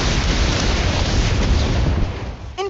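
Confringo explosion spell in the Harry Potter: Magic Awakened game, a loud rumbling blast that roars for about two seconds, then fades out into a short bright chime.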